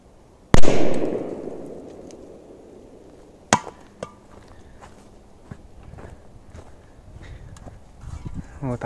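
A big firecracker goes off with one sharp, loud bang and a short decaying rumble. Smaller knocks, clicks and a few footsteps follow in a quieter outdoor setting.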